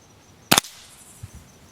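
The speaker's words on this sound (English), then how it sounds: "this is just great fun shooting this thing" A Beeman Grizzly X2 .22 air rifle fires one sharp, loud crack up close, followed by a brief fading tail and a couple of faint thuds.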